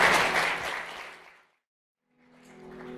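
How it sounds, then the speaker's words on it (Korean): Wedding guests give a short round of clapping during the ring exchange. It fades out to silence in the middle, then a quieter murmur of the room returns. "이렇게 아름다운 순간 내빈 여러분들의 뜨거운 박수가 필요할 겁니다"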